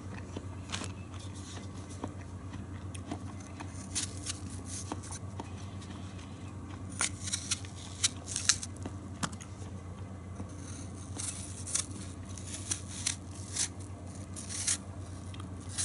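A Yu Kurosaki R2 Shizuku custom knife peels, giving repeated thin scraping and slicing strokes at close range, irregular in rhythm over a low steady background hum, with no talking.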